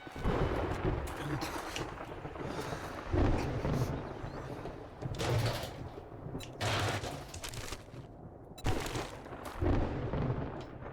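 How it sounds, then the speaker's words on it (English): Thunder from a video game storm rolls in as heavy, rumbling booms that swell and fade in several waves over a steady low roar, fairly loud and close, with no voices. "here comes the storm"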